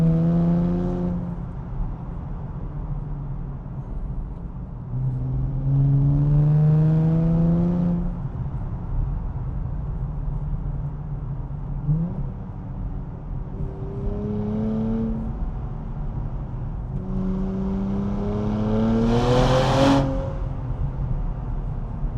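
A Nissan Z engine hums and revs through a U-turn, rising and falling in several smooth sweeps, with a sharper higher rev near the end, heard from inside the car with no talking.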